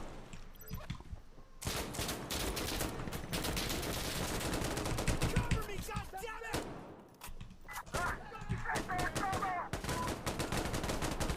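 An MG3 machine gun fires in the video game Insurgency: Sandstorm, with long, loud, rapid bursts that keep going through most of the stretch, a short pause in the middle, and a voice speaking over the gunfire.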